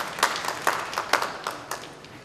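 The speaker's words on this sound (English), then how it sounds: "let's give them a round of applause" An audience claps for young people at a South Carolina event honoring Mary McLeod Bethune. The applause is brief and moderate, with a few louder claps standing out before it fades.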